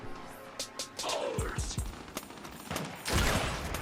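Gears 5 team deathmatch on the Vasgar map: several sharp gunshot bursts and impacts amid game ambience, moderately loud, with a louder burst near the end while players talk.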